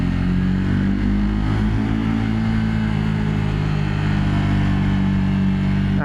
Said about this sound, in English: But this little single is delightful. It makes a really good little racket as well.